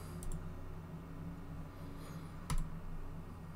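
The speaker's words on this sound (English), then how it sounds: "Type in my password." A few light keystrokes on a computer keyboard as a password is typed, faint and sparse against a steady low room hum.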